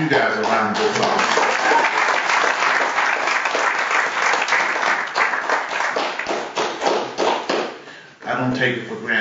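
A church congregation claps steadily for preachers, full and continuous, then thins and breaks briefly near the end before a short final burst of clapping.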